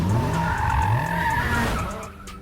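A car tears in at full speed with loud screeching, skidding tires, the squeal sweeping up and down before the engine noise drops away near the end.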